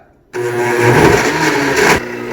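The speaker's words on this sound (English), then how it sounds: "The motor is spinning, but the smoothie is not moving." A blender motor kicks on suddenly and whirs loudly at close range for about two seconds while the smoothie inside stays unmoving, then drops in pitch as it cuts back.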